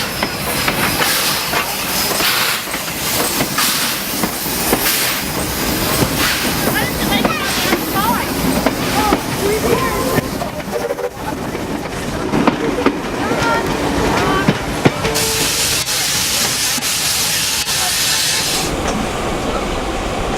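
A steam train rumbles past at Thirlmere, with hissing steam and rhythmic clanking of carriages building into a loud, close pass, followed by a sharp burst of steam hiss near the end; people talk briefly over it.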